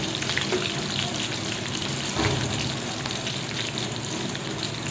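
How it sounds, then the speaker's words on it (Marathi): Seven or eight chopped green chillies and garlic fry in hot oil for methi bhaji, giving a steady, fairly quiet crackling sizzle with small pops and no talking. "तर त्या तेलामध्ये चांगलं छान फ्राय करून घेतल्या"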